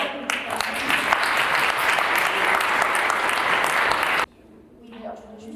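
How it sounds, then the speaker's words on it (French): Audience applause at a reading-night micro-fiction prize ceremony, a steady dense round of clapping for about four seconds that stops abruptly, leaving a quiet room with faint murmuring. "On l'applaudit quand même."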